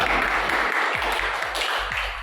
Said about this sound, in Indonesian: aplaus untuk kelompok kontra